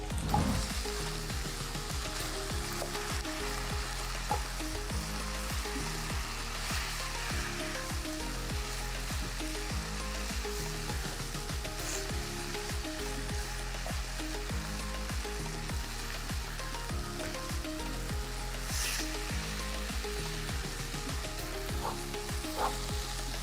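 A covered pan simmers and bubbles steadily at close range, giving a continuous dense sizzle with a loose repeating rhythm over the full stretch, and no voices.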